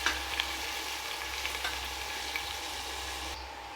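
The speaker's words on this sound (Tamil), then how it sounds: "நல்லா வெங்காயம் பொன்னிறம் வர வரைக்கும் நல்லா வதக்கிக்கோங்க" Onions sauté in a pan toward golden, a continuous even sizzle with a few faint stirring clicks, close and steady, with no voice.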